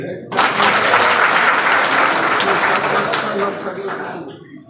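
Loud crowd applause at a political rally, a dense burst of clapping starting abruptly and holding steady before tapering slightly toward the end.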